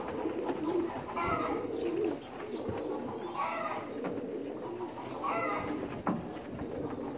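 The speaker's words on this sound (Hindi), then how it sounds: "ये अबू उमर साहब एक दिखा रहे हैं कबूतर, इसकी आँख और उसका पर कुंदा।" Soft pigeon cooing repeats in low rolling phrases several times, with steady background noise and faint rustling throughout.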